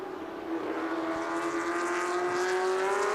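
Historic racing cars lapping Silverstone circuit, a loud engine note rising steadily in pitch as a car accelerates and draws near, sustained roar throughout with no talk.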